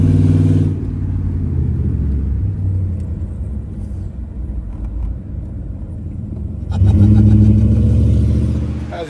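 Chevy Silverado with a stock 5.3 V8 and cheap long tube headers accelerating: a loud, deep engine rumble with a throaty exhaust that drops back briefly and then surges again, heard close with no talk.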